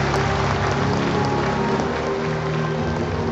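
A seminar audience for Vietnamese youth gives a big round of applause, dense and loud clapping that keeps up steadily from start to finish with no talking over it.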